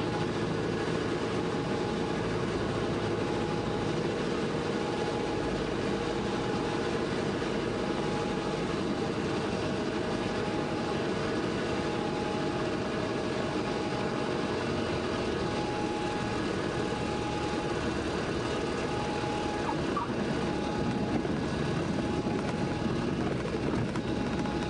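Grumman light aircraft taxiing at a small airport during a fly-in: a continuous, even engine drone heard close from inside the cockpit, unchanging throughout with no talk.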